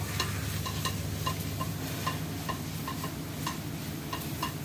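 Curry leaves sizzling in hot oil in a pan while cooking a seafood crab curry, a steady frying hiss with regular light ticks of a spoon stirring against the pan.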